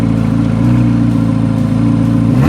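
A Chevrolet Corvette C8 Z06 revving up close, a loud, steady mechanical engine tone that holds and builds slightly toward the end, no voices.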